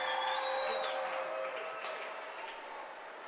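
Hockey arena crowd at a beauty league game cheering and applauding, a broad steady roar that fades slightly toward the end, with no one speaking over it.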